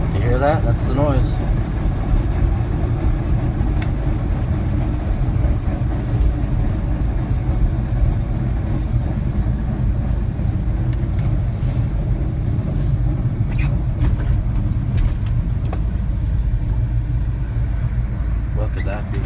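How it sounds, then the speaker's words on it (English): A 1983 Chevy K10 4x4 gives a steady, loud low rumble and grinding drone from the front hub area while driving, continuous throughout with scattered clicks and knocks on top. "My four-wheel drive is making a noise. It sounds like it's coming from the hub."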